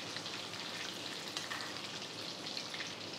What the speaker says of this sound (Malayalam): 5 മിനിറ്റ് നേരമൊക്കെ മതി ഇത് ഫ്രൈ ആവാൻ. മീഡിയം ഫ്ലെയിമിൽ തന്നെ വെക്കാം.